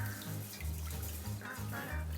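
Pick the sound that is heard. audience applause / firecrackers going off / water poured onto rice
water poured onto rice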